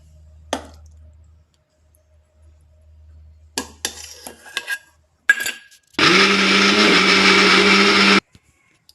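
A kitchen mixer grinder whirs loudly for about two seconds, blending spices with curd in its jar, preceded by scattered clinks and taps as the jar is handled.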